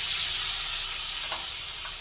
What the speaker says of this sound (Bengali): চালটা দিয়ে আবার ভালোভাবে একটু নাড়াচাড়া করে নিচ্ছি।